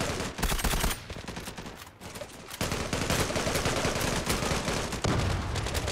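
Rapid bursts of gunfire from the online shooter game Zula, dense volleys of shots crowding nearly the whole stretch, loud and close with a brief lull near the middle.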